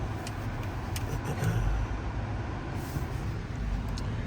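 A 2025 Honda Pilot EX-L AWD SUV being driven slowly to park, with a steady low engine and road rumble heard from inside the cabin and no talk.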